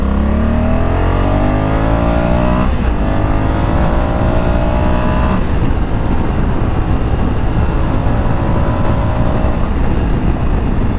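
Loud and close, a 2020 Honda Africa Twin Adventure Sports CRF1100 with an 1100cc parallel twin accelerates hard through the gears, engine pitch climbing then dropping at each of two clear upshifts, with steady wind roar throughout.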